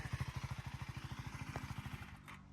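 A KTM Duke 390 motorcycle engine idles at low RPM, a steady close-up thumping pulse of regular firing beats that continues for a couple of seconds before trailing off.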